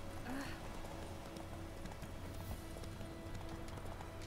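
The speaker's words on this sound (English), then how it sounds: "Good job, Roach. The best horse." Horse galloping in The Witcher 3: Wild Hunt, a steady rhythmic clip-clop of hooves running throughout, moderately close among game ambience.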